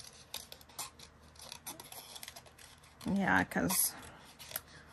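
Scissors fussy cut paper at close range, giving faint irregular snips and a louder burst of cutting and paper rustle partway through, with a person briefly speaking.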